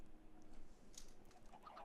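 Minecraft chickens clucking in a game, faint, short and scattered over a quiet background.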